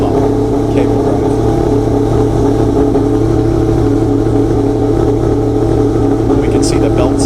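A five-rotor rotary engine runs on a dyno on its cable-driven mechanical fuel pump, a loud, steady, droning hum with a constant low rumble throughout.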